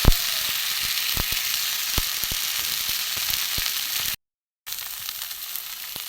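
A rice omelet fries in oil in a pan with a steady, dense sizzle and occasional sharp pops, close and continuous apart from a brief gap of silence.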